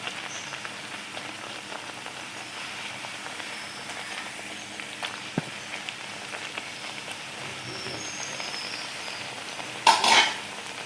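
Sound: pepper vadas frying in hot oil

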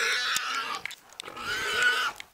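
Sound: wild boar attacked by hunting dogs

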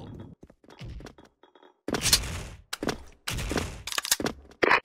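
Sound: grenade explosion in the video game SF Rush

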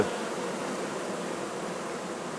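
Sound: worker bees buzzing in a hive

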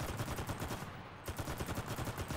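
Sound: gunfire in video game CRSED

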